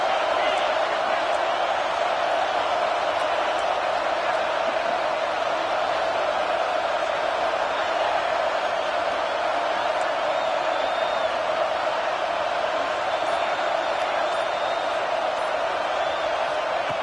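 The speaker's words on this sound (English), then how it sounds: "And here comes the noise. This crowd is trying to inspire this defense to make a big red zone stop." A large college football stadium crowd at USC vs Texas roars steadily during a red zone defensive stand, a dense, sustained wall of cheering and noise with no breaks, loud and continuous.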